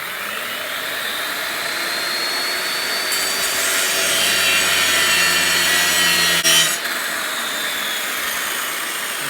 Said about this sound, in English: I don't know if you can cut aluminium with a diamond blade